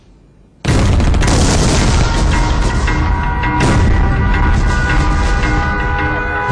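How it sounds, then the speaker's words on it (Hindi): Cross-border gunfire and explosions along the India-Pakistan border during a ceasefire violation, a sudden loud onset followed by a dense, continuous roar of booms and shots with no talk. "लगातार पाकिस्तान की तरफ से जो है फायरिंग की जा रही है।"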